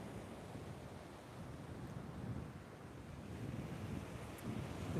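Rough sea and strong wind at Sam Roi Yot beach in Thailand, a low, continuous roar of surf mixed with wind buffeting the microphone, steady and moderately faint with no voices.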